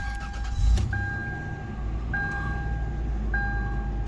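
A 2002 Toyota 4Runner with 83,000 miles cranks and starts up, settling into a steady idle with a low engine rumble; short bright chime tones recur a few times over the running engine.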